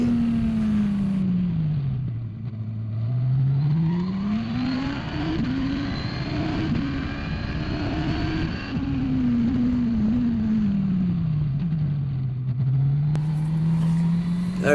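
A Radical race car engine at full throttle on the Mallala circuit, recorded close up from the cockpit. It holds a loud, sustained drone whose pitch climbs and dips smoothly through gear changes and corners.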